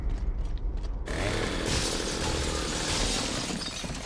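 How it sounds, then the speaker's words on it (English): Chainsaw in the video game Gears of War cutting through an obstacle: a dense, loud grinding and shattering roar that starts abruptly after a second and holds steady to the end. "maybe chainsaw through it."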